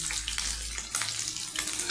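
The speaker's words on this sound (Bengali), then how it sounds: "যে মাংসটা আমাদের কড়া ভাজা হয়েছে, সঙ্গে কিন্তু যে পেঁয়াজ না, রসুন আর আদাটাও কড়া ভাজা হয়ে গেছে।" Chicken pieces with onion, garlic and ginger fry hard in a kadai, giving a steady close sizzle with brief stirring scrapes, no voices.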